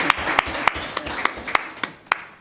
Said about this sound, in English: A round of applause for our chairman.